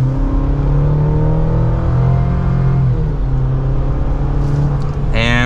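A 2024 GMC Canyon AT4X AEV Edition pickup truck under mild acceleration, its engine a loud, close, steady drone with a gradual climb in pitch, ending in a brief higher whine.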